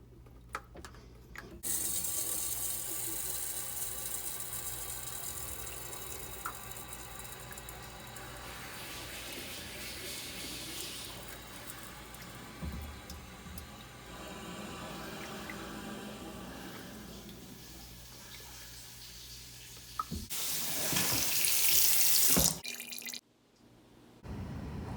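Water runs steadily from a plumbing supply line that is leaking at an elbow, a continuous rushing and dripping wash that holds for most of the stretch and swells louder near the end.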